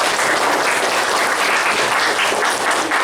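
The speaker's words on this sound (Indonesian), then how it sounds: "tepuk tangan dong." A classroom of schoolchildren bursts into dense, continuous applause at morning greeting time, many small hands clapping together loudly and evenly with almost no talk.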